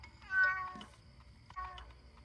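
A cat meows twice, a longer clear meow followed by a shorter one after a brief pause, close and alone over quiet background.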